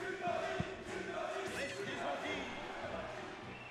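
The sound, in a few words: tournament crowd cheering at Smash Bros match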